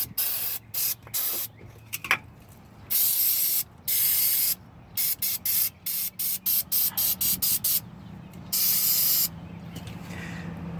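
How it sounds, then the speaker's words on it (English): Carb cleaner sprays in repeated short hissing bursts around the oil pressure switch area of a 1997 Ford F250, loud and close, with brief pauses between each blast and one longer spray near the end. "So we're going to go back with the carb cleaner one more time."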